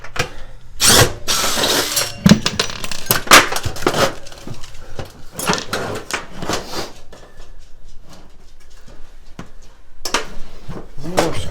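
A screwdriver backs old Phillips screws out of a baseboard heater mounted on a wall, producing loud close-up scraping, creaking and ratchety clicks in irregular bursts, with quieter stretches in between and no speech.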